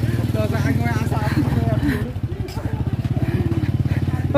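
A motorcycle ride at close range gives a steady low engine drone with a rhythmic putter, under loud talking voices throughout.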